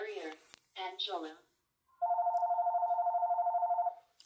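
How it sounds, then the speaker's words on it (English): A telephone rings in a home craft room with one long electronic warbling trill lasting about two seconds, following a short stretch of speech. "Sorry about the phone."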